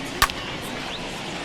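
A single sharp crack of a bat meeting a ball in the MLB The Show baseball video game, at a Mets at Expos game played in Puerto Rico, standing out briefly over a steady crowd and stadium ambience.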